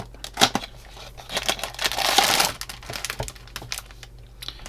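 Plastic packaging of a Dune ornithopter model kit being opened up close, with crinkling, tearing and sharp clicks in an uneven cluster that swells to a louder rustle midway, no talking.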